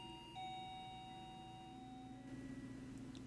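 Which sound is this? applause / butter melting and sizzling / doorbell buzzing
doorbell buzzing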